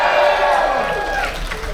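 Large crowd of American passengers aboard a cruise ship cheering together, a loud, sustained roar of voices and shouts filling the whole moment.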